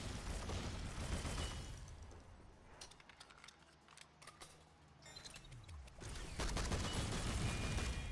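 An ion cannon fires in the shooter game SYNTHETIK, heard as dense, crackling bursts of rapid fire. The bursts are loud at the start and end and ease off into sparser mechanical clicks in the middle.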